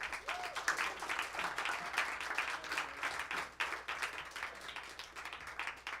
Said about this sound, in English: Could we please give Leonard Patton a round of applause over here?